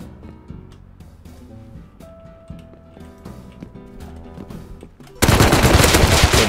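An MP5 submachine gun fires in the game Rust, a sudden loud burst of rapid automatic shots erupting near the end after quieter clicking and clattering, continuing to the close.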